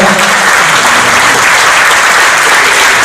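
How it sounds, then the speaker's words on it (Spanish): Strong, sustained applause from a large audience at the close of a presidential debate on education, a loud continuous roar of clapping with no break. "vamos a brindar fuertes aplausos por su tiempo, por su entrega"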